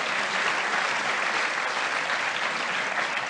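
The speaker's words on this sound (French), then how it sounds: "Voilà, vous pouvez l'applaudir." A French television studio audience gives a guest a sustained, even round of applause, many hands clapping continuously at a steady, full level, with no talking.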